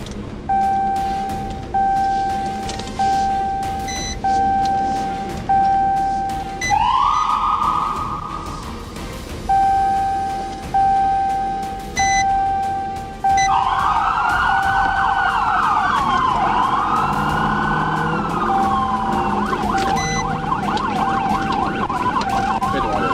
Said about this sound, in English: prompting the trooper to activate his siren and initiate a pursuit